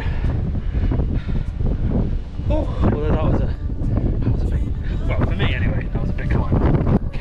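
Wind buffeting the microphone on an exposed hilltop during a solo wild camp, a steady loud rumble running throughout while a person talks over it.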